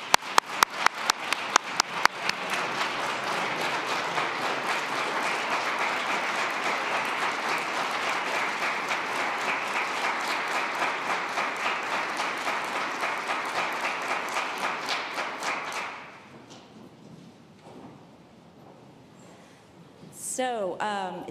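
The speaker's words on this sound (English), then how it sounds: "Let's give them a warm round of applause." Sustained audience applause at a Justice Department national opioid summit, dense clapping from a large room that holds steady for about fifteen seconds before fading, followed by a brief voice at the end.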